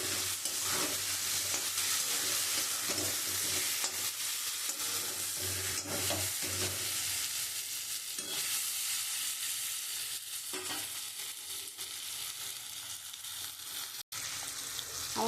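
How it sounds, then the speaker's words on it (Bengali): Eggs stirred and fried in a pan of mustard masala, with a steady, close sizzle and repeated scraping strokes throughout, no voices. "আমি এবারে ডিমটা দিয়ে দেবো। ডিম দিয়ে আমি কষাবো।"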